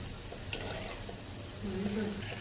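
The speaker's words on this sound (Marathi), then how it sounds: "तर आपण याला कमी गॅसवर छान ब्राऊन रंग येतपर्यंत तळून घेऊयात." Gulab jamun fry gently in oil over a low flame, making a low continuous sizzle that thickens slightly toward the end, with no voices over it.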